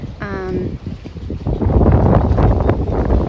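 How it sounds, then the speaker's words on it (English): Strong wind buffets the microphone in loud, rumbling gusts, with a brief voice near the start. "the rain has let up, but it's pretty windy and cold"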